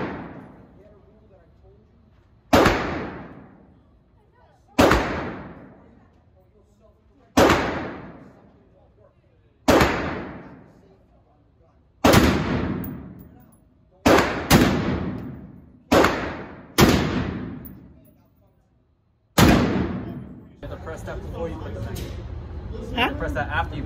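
Single rifle shots at a shooting range crack out one at a time, about nine loud, close reports spaced a few seconds apart, each trailing off in a long echo, with a voice speaking near the end.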